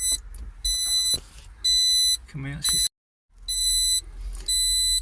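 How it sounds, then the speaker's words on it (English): A cheap 4-in-1 car gauge for oil, water, volts and fuel on a Simca Aronde sounds a no-oil-pressure warning: repeated high electronic beeps in bursts with short gaps, close by, while someone talks between and over them. "so if anything's going wrong it will beep, and at the moment it's saying there's no oil pressure"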